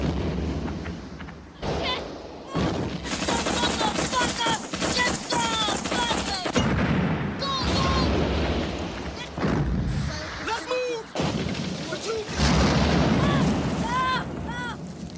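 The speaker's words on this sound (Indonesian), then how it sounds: "langsung menghujani tentara Amerika dengan bom dan tembakan" Dense battle sounds from a war film, with gunfire and bomb explosions raining down on American soldiers, loud and continuous with bursts and booms, mixed with shouting voices throughout.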